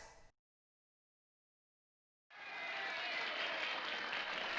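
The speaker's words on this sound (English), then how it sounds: "if there's to be applause, let it be for all of us" Applause from an audience breaks out after a brief silence, a steady dense wash of clapping that holds at an even level to the end.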